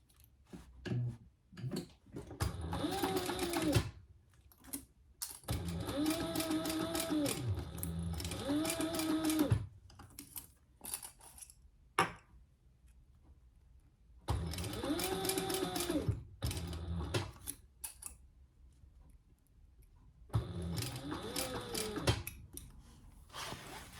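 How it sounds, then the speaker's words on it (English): A sewing machine runs in several bursts, basting layers of fabric for a small pouch, each run stopping and starting with quiet pauses between, close and clear with no talking. "now we're just going to baste this in place"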